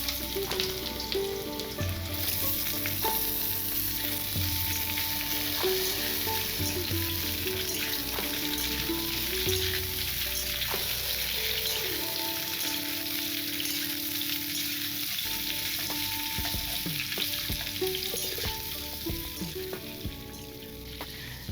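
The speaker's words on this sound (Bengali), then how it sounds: "সর্ষের তেলটা গরম হলে এর মধ্যে প্রথমে আলুর টুকরোগুলো ভেজে নেব" Potato pieces frying in hot mustard oil in a pan, a steady dense crackling sizzle with occasional stirring clinks, close and continuous throughout without any talk.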